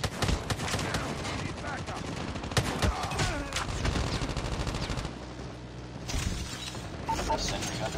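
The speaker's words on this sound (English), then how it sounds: "Full sentry gun deployed." Rapid automatic gunfire from a deployed sentry gun in Call of Duty multiplayer, loud and sustained in dense bursts with other gameplay sounds mixed in.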